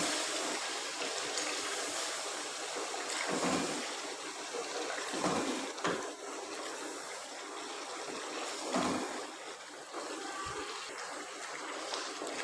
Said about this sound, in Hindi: अब इसमें थोड़ा सा पानी डाल के